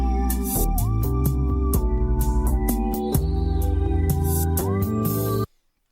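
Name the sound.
unprocessed music sample for a beat, Serato Sample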